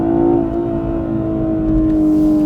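A BMW 840i xDrive Gran Coupe with M Sport package revving hard in sports mode near 6,000 rpm, a loud close sustained engine drone with a steady high tone and slight rise, no voices.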